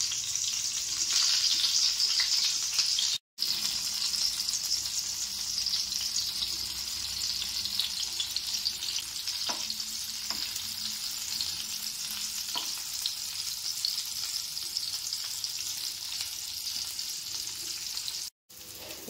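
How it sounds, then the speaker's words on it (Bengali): Rui fish sticks frying gently in a pan over low heat, a continuous soft sizzle with a few faint clinks of utensils, heard alone without talk. "আঁচটা কমিয়ে দিয়ে আস্তে আস্তে আমি ভেজে নেব।"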